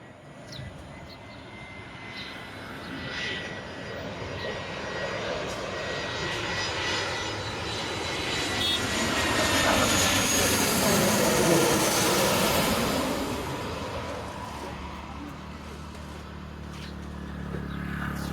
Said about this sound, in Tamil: ஃப்ளைட் இறங்கிடுச்சு.